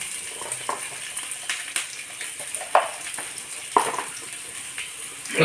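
Onions sauté with turmeric and salt in a pan for a mutton curry, a steady close sizzle with occasional stirring scrapes and clinks throughout.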